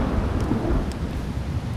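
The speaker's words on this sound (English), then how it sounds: "That night, a great storm ensued." Thunderstorm sound effect with a steady, dense roar of rumbling thunder and rain, continuous and loud throughout, with no voices.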